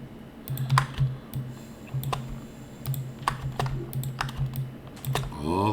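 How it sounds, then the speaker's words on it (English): Keyboard keys and mouse clicks while shift-clicking to select text in Photopea, irregular close clicks and taps over a faint background hum, with no talking. "I'm just going to shift click"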